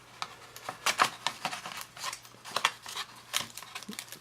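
A knife slices through tape on a mail envelope in a series of short, close scratchy cuts and rasps, irregular and crisp.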